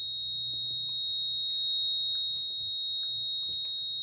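A continuous electronic alarm tone from an Arduino-based alcohol detection engine lock system holds steady throughout, high and piercing, with faint background noise beneath it.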